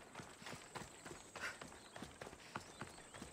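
Horse hooves clip-clopping in Assassin's Creed Odyssey, a steady walking rhythm of soft thuds repeating at moderate distance over a light ambient game background.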